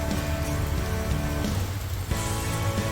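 Heavy, continuous rain roars close by during a boat haul-out in Grenada, a dense wash of droplets with no voices.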